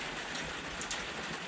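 Rain falls steadily by a lake, giving a continuous broadband hiss with light patter, close and uniform for the whole stretch.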